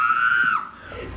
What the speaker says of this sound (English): That scream, though.